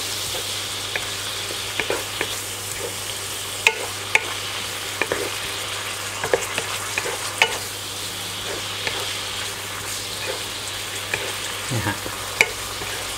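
Minced pork seasoned with fish sauce, sugar and dark soy sauce sizzles steadily in a pan while being stir-fried, with scattered sharp clicks and scrapes of a spatula throughout and no talking.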